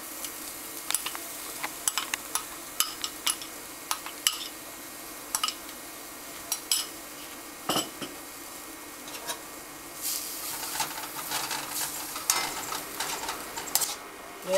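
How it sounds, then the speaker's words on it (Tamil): Grated coconut being lightly sautéed in oil in a kadai, a faint steady sizzle under scattered clinks and scrapes of a utensil against the pan, no one speaking. "தேங்காய் பூவை நம்ம இப்போ என்ன பண்ணுறோம், எண்ணெய் சட்டியில் போட்டு கடாயில் போட்டு கொஞ்சம் லேசாக வதக்கிக்கணும்"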